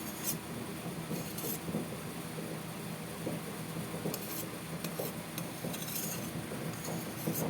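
A spatula scrapes and clinks against a pan while garlic powder is stirred into frying drumstick leaves, a busy run of light metallic taps over a soft background hiss.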